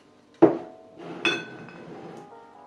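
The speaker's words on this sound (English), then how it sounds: "get my glass and fill it with ice" Ice cubes drop into a glass for a drink, making two distinct clinks about a second apart with a short ringing decay, close and alone.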